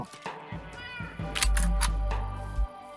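In a ghost-hunting video game, a monster mimics a cat's meow, producing a drawn-out, close, fairly loud meow-like wail over low game rumble and noise.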